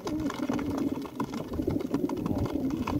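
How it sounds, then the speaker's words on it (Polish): Racing pigeons at a home loft, with steady throaty cooing close by and a busy fluttering, shuffling background, no talk. "pierwszy gołąb usiadł"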